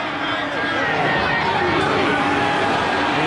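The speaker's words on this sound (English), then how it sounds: "That's got the crowd finding their voice for the first time in a long while." Stadium crowd at a 2012 rugby league match between Manly and Melbourne Storm, roaring and cheering after a big tackle: a dense, steady wash of many voices with a commentator talking over it.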